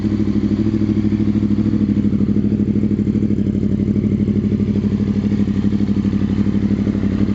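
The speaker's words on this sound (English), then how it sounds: "After you have everything hooked up, start it up, make sure everything's okay." A 2009 Yamaha R1 sport bike engine idles steadily and loudly up close, with a fast even mechanical pulse and clatter throughout and no voices.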